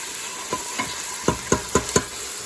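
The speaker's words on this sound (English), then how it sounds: "we're frying up our onions and garlic" Onions and garlic sizzle steadily in a hot pan, with a handful of spaced utensil scrapes and stirs standing out over the hiss.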